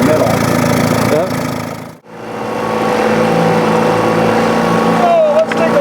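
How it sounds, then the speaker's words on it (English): A 1959 Mercury Mark 10A outboard motor idles low on its trolling lever, a steady throbbing drone that briefly cuts out and then returns, with a voice speaking over it. "So you can idle it right down using the trolling lever"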